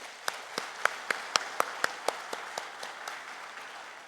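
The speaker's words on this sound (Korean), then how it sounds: "우리 올로 목사님에게 감사의 박수 한번 드리도록 하겠습니다" A church congregation claps in scattered applause during a Sunday service, a string of sharp claps that thins out over a few seconds, with no voices.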